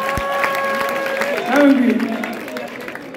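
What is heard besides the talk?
audience applauding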